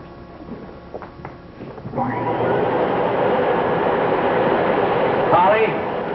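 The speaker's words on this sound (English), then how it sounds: "So plug in the vacuum sweeper?" A vacuum sweeper starts up and runs with a steady, loud whine that holds for several seconds after a quieter stretch with a few knocks, in a 1961 TV sitcom scene.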